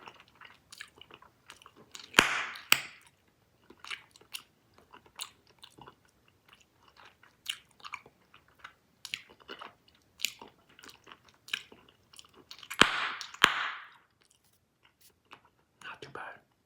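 Close, quiet, sticky chewing of Big League Chew bubble gum, with irregular wet smacks and a few louder crunchy bites, under soft whispering.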